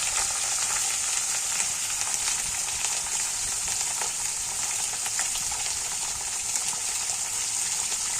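Steady, dense sizzling of fish pieces and chopped onion frying in hot oil, a continuous crackling hiss with occasional louder pops, close up and without voices.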